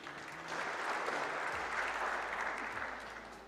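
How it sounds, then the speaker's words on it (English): An audience claps at the Under-23 World Squash Championships semi-finals, a dense wash of applause that swells in and holds steady for a few seconds before easing slightly. "Can we please have a round of applause for them too?"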